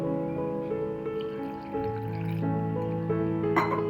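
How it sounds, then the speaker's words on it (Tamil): Water pours into a mixer jar, its pitch rising as the jar fills, with a gurgling, trickling sound close by. "நம்ம இது கூடவே கொஞ்சமாக தண்ணி சேர்த்துக்கலாம்."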